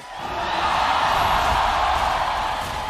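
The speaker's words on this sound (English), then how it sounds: "Listen to the crowd." A large arena crowd at an esports grand final at Rizal Memorial Coliseum roars and cheers in a sustained, steady wash of noise, loud throughout with no single voice standing out.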